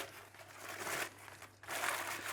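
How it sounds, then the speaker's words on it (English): Baking parchment crumpled by hand in a kitchen for lining a brownie tray: two bursts of crisp, close crinkling with a brief pause between them, no talking. "Just take your baking parchment and just crumple it up."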